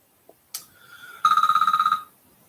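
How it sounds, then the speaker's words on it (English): A telephone rings in a quiet living room during a farm channel's live stream: one short blip, then a near, loud electronic trill of rapid pulses lasting under a second that stops abruptly, with no talking. "wouldn't you know, the phone would ring right in the middle of a live chat"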